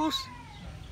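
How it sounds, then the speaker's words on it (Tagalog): A cat gives a single short crying meow that slides downward and fades within a second, heard close over low background noise. "Pusa yun."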